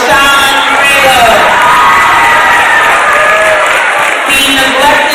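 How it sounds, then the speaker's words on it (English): A large audience at a community political event applauds and cheers loudly, a dense, sustained wash of clapping with whoops and shouts running throughout, close and continuous. "Another round of applause for Mr."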